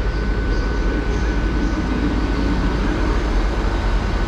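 Class 159 diesel unit 159014 at Exeter St Davids station, a loud, close, continuous engine drone and rumble with a steady tone throughout, no talking.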